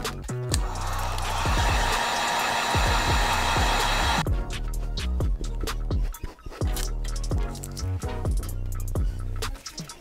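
Heat gun warming traction pads on sneaker sole shields for a custom Air Jordan 3, a loud steady blowing roar for about four seconds that stops, followed by a rhythmic beat with no talk.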